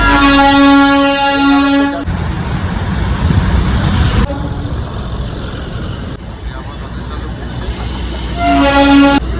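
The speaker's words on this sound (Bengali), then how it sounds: "ইঞ্জিনটা দিক থেকে ঘুরে এসে এদিকে লাগবে" A Darjeeling toy train engine sounds its horn in a loud, steady blast, then rumbles and clatters along the track before a second horn blast near the end, with faint voices in the background.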